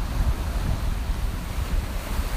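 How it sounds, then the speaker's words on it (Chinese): Ocean waves washing on the seashore of Orchid Island, a continuous rumbling surf mixed with wind buffeting the microphone, steady and fairly loud with no voices. "着海的声音，好美啊"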